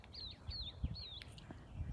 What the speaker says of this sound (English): Do you hear those birds out here singing?